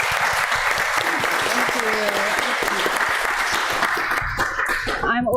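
Big applause for children at a temple Sunday service, a loud continuous wash of clapping filling the room, with a voice briefly speaking near the end.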